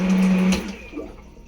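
A Seaflo Quiet Flush marine toilet rinses with fresh water from the boat's supply, giving a short, close mechanical hum with water rush for about half a second before it stops and a faint swirl follows.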